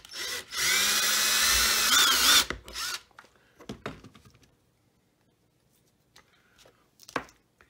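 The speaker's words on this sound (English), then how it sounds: "We're going to drill our hole" A power drill bores a hole into a leaded glass sun catcher with a loud, steady whine lasting about two seconds, then stops; a few quiet clicks and handling knocks follow.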